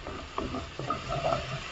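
Onions sauté in a stew pot with paprika as a utensil scrapes the bottom, giving a quiet, continuous sizzle with soft scraping strokes and no speech.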